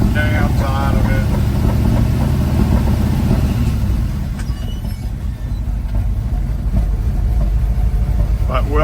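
1982 GMC K1500 pickup engine running rough with off timing or a worn cam, a loud, steady, uneven rumble close by that continues for the whole stretch without talk.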